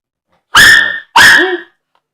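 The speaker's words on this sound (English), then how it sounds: "if you hear my dogs barking a little bit" Two loud, sharp dog barks in quick succession, close by, followed by silence.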